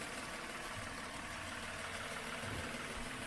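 A car engine idles steadily while left running to cool and circulate its oil before shutdown, a constant low rumble with a broad hiss over it, unchanging and fairly close.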